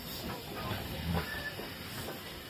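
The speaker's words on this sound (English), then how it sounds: "is a Vulcan loco. Beautiful, very, very powerful tank loco." Steady broadband hiss from a powerful Vulcan steam tank locomotive on the Severn Valley railway, continuous and fairly close, with a faint tonal whistle-like note midway and no talk.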